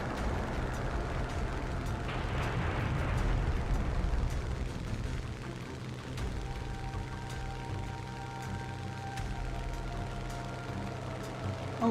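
Aircraft cannons fire short bursts during a War Thunder dogfight, the rapid pops and thumps sitting over a constant loud rumbling engine drone.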